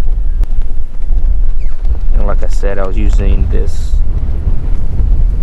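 Strong wind gusts of roughly 15 to 17 mph buffet a fishing boat near Galveston, Texas, a constant low roar of wind noise on the microphone while someone talks over it.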